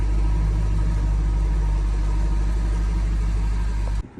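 A car bought at auction, needing timing and fuel pump repairs, idles steadily with a low, continuous engine rumble, close by and alone, before cutting off abruptly near the end.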